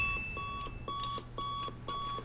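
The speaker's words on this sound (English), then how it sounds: "Movie introduces our protagonist with him waking up to his alarm clock beeping cliche" An alarm clock in a movie beeps in a steady repeating pattern of clipped electronic tones, five short groups at an even pace over a low hum.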